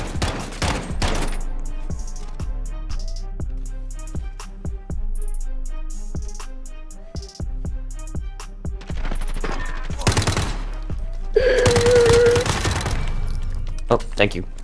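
Rapid automatic gunfire bursts in a video game, interleaved with sharp single shots and explosions, loud and close, with a player talking intermittently over the action.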